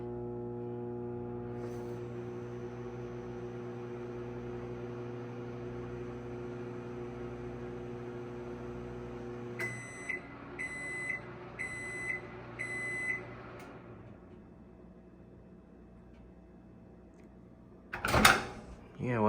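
A GE JES1657DM2WW microwave oven hums steadily while running, then gives a short series of four evenly spaced beeps before falling quiet, followed by a sharp clunk near the end.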